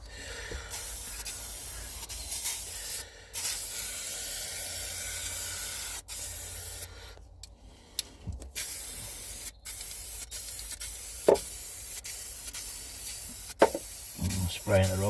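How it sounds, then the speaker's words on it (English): Long hissing bursts from a spray can while refitting a Skoda Estelle car interior, broken by brief pauses between passes, recorded up close with faint rustling and a voice in the background. "Spraying at the wrong angle"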